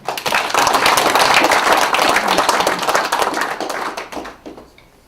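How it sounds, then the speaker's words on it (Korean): Audience applause at a Korean public forum on preserving the Sangju copy of the Hunminjeongeum: dense, loud clapping for about four seconds, thinning out and fading at the end. "이럴 때 박수 한번 주십시오."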